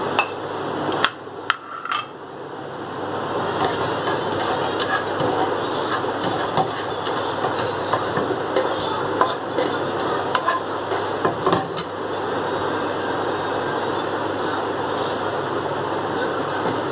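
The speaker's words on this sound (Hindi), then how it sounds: "और ये मैं सौते करती हूँ घी के अंदर।" Ingredients for sheer khurma sauté in ghee, giving a continuous close sizzle with stirring scrapes and occasional metallic clinks of the utensil against the pan.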